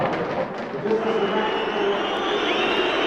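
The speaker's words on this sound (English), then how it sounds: "Just listen to the crowd" A large stadium crowd of about 51,000 at an expensive football match, a dense continuous roar and murmur filling the air at steady loudness with no distinct chants or claps.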